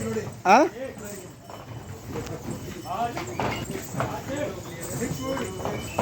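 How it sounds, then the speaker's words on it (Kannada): Horse hooves clip-clop at a steady walking pace on the mountain path to Vaishno Devi near Katra, Jammu, mixed with ambient noise, plus one sharp loud burst near the start, while someone talks over them. "ಮುಂದೆ ಇನ್ನೊಂದು ಕುದುರೆಯಲ್ಲಿ ಹೋಗ್ತಿದ್ದಾರೆ"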